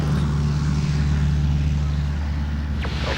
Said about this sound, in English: For Jenny, going up in a tiny two-seater is pretty extreme therapy